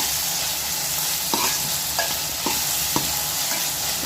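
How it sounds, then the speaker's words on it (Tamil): Tomatoes and green chilies sauté with onions in a pan for a fish curry, a steady sizzle broken by a few sharp spoon scrapes and stirring knocks, close and continuous with no talking. "இந்த தக்காளி, பச்சை மிளகாய் சேர்த்து வெங்காயத்தோடு நல்லா வதங்கணும்."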